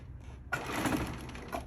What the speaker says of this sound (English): It's going to stitch the left side.